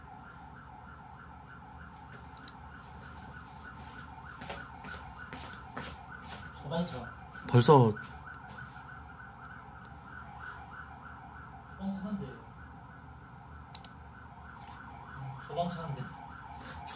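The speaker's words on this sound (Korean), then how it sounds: "무슨 사이렌 소리야, 이거?" Fire engine siren passing outside, faint and distant, with a wailing rise and fall under a steady hum while people talk indoors.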